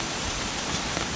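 Rain falls in the jungle of the Bali Monkey Forest, a dense, steady patter of drops hissing on leaves and surfaces, close and continuous with no talking.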